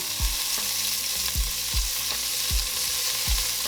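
Floured beef chunks sizzle and fry in a stew pot, with a steady crackle broken by about five soft thumps as pieces are stirred or turned.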